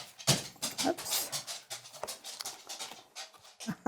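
A pet dog pants quickly and close by, and its toenails click in short, uneven taps across a hard floor. No one speaks.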